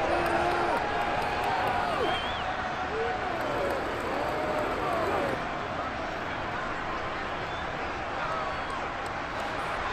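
Crowd cheering in a Madden NFL video game football stadium: a steady, dense roar of a large distant crowd that swells slightly, with a commentator talking over it.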